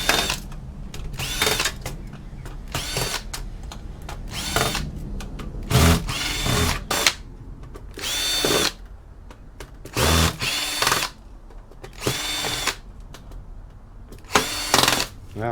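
A power drill backs screws out of a DVR casing in repeated short bursts, about ten separate whirs of a second or so each, close and fairly loud, with clicks and handling noise in the pauses between.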